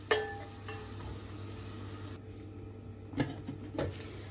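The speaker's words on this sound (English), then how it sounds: "just mix the onions and cook that for about 10 minutes" Onions cooking in a pan with salt, a soft steady sizzle and a few clinks of the spoon being stirred through, close and moderately quiet, no voices.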